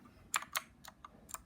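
Keys on an RK61 gaming keyboard are tapped close up, about five quiet, sharp clicks at an uneven pace, with nothing else going on.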